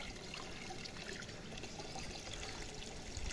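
Water pours steadily into a water tank, a continuous broadband rushing and splashing that stays even and moderately close throughout, with no talk.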